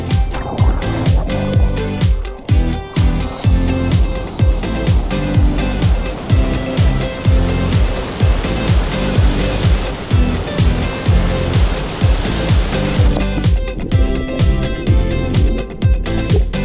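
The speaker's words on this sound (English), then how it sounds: "Gonna explore a little bit over here by the waterfall." Rushing waterfall in Clear Creek Wilderness, a steady loud roar of falling water close by with dense broadband splashing throughout.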